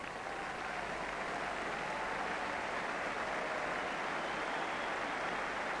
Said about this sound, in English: And a very generous round of applause